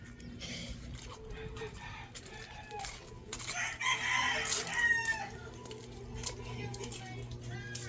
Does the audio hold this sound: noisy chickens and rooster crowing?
yes